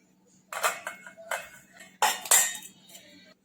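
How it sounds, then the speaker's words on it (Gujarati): Fried potatoes for aloo chaat are scooped from the pan into a bowl, making a handful of close, sharp metal clinks and short scrapes in uneven bursts with quiet gaps between and no talking. "હવે આપણે એક બાઉલમાં કાઢી લઈશું"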